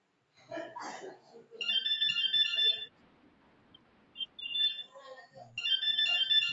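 A phone ringtone chimes in repeating electronic bursts, with Hindi-speaking voices talking before and between the rings during a still life painting class.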